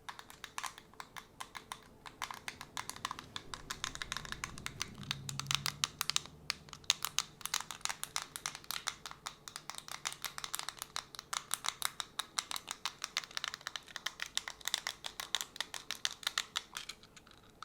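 A four-button fidget toy clicked over and over in rapid, crisp, close-up taps, steady and fairly quiet, with no talking.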